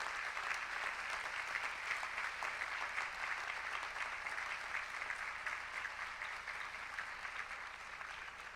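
Sustained applause from a large audience at a doctoral hooding convocation, steady and dense throughout, fading slightly toward the end.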